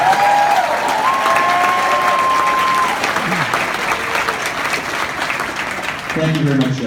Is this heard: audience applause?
yes